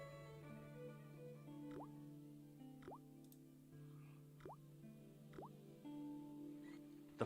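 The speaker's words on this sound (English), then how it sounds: "I shut off the faucet as tight as I could, but it kept on dripping." A dripping faucet in the video game Broken Sword: single drops fall one at a time at a slow, fairly steady pace, each a short, distinct plink over a steady bed of background music.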